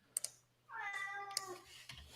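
A house cat lets out a single drawn-out meow close to the microphone, preceded and followed by light keyboard-like clicks in a quiet room.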